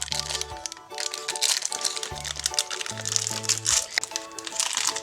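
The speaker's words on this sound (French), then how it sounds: "nous allons commencer par ouvrir ce petit paquet-là" Crinkling and crackling of a small plastic LOL Surprise doll packet being opened up close, with brief tearing rustles over a musical backing.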